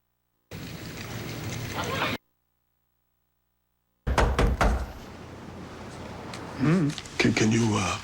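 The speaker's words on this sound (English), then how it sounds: "I just wanted to knock and introduce myself." A visitor knocks on a neighbouring door to introduce herself: several sharp, close raps on the door, then talk follows immediately.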